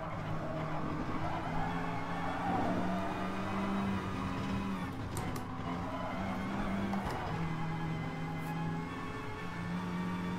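A Lamborghini Huracán engine in the racing game Gran Turismo Sport hums steadily at moderate revs, a continuous mid-level drone with slight rises and falls throughout and no voices.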